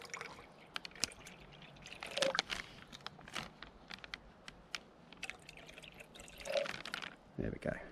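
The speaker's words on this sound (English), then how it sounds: "Let's pour some back." Water is poured back out of an MRE ration bag outdoors in wind, making soft trickling splashes and drips over a faint, noisy background.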